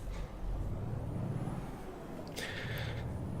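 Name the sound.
truck braking in Euro Truck Simulator 2 video game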